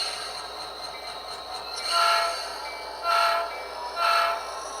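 Small HO scale model train shoving a blue ADM hopper car along a siding on a compact switching layout, with three soft rising swells of rolling motor and wheel noise, close and fairly quiet, with no voices.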